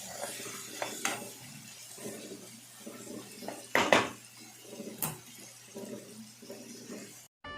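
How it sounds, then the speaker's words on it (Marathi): Chopped onions fry in a pan for egg dum biryani, stirred with a spatula that scrapes and clinks against the metal through a steady low background, with a few sharper knocks along the way. "कांदा पण व्यवस्थित फ्राय करून घेऊया"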